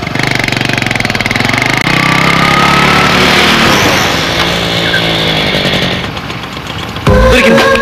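A motorbike engine runs steadily and loudly throughout, a dense rattling drone that shifts in pitch near the end, with faint voices underneath.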